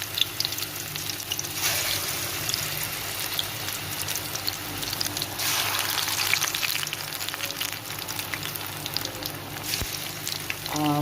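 Pakoras fry in hot oil for kadhi pakora, a steady crackling sizzle with faint bubbling that holds at a close, moderate level throughout, with no talking.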